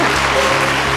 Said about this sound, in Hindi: आप सब इनका जोरदार तालियों से स्वागत कीजिए